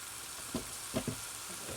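Mushrooms hit a hot pan and fry in a quiet kitchen, a soft, steady sizzle broken by a few brief clatters as they are stirred or settled, with no talking.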